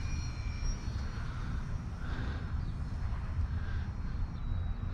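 A Flite Test Simple Scout RC plane with flaps deployed flies slowly overhead, its motor a faint, steady distant drone with occasional higher whines.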